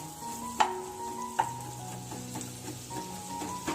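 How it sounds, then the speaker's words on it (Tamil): Onions sauté in a home kitchen pan with a soft, steady sizzle, punctuated by a few sharp clinks of a spoon stirring against the pan and faint background tones. "வெங்காயம் இந்த அளவு வதங்கினா போதும்."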